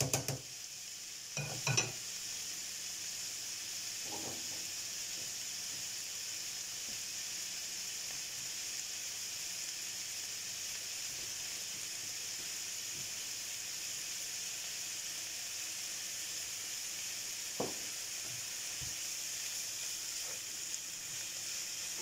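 Onions and minced beef fry in a pan with a quiet, constant sizzling hiss, broken by a few knocks of a utensil early on and once more much later.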